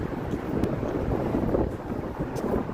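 Wind gusts on a Chicago street in February, a steady loud roar buffeting the microphone with no break.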